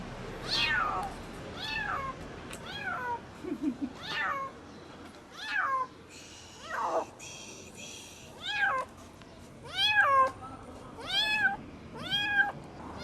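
A cat trapped under a car's hood meows repeatedly, about a dozen distinct, fairly loud cries spaced a second or so apart, with faint street noise behind.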